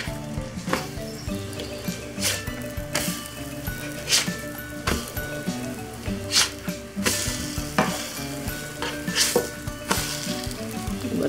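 French toast fries in a pan with a steady sizzle, punctuated by repeated clatters and scrapes of a utensil against the pan, close and fairly loud with no one talking.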